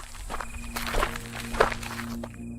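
People walk among plants at night, their footsteps soft and irregular, with light rustles and a few louder thumps close by over a quiet background.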